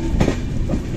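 Kokankanya Express train at Vaibhavwadi Road station, a brief loud burst of rolling carriage wheels with a clickety-clack over steady rail rumble, close by.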